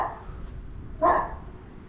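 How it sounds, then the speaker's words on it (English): A dog barks in a residential street near a church in Aradippou, Larnaca, Cyprus, giving one short bark at mid-distance over a steady outdoor background, with a second bark beginning at the very end. "And a dog."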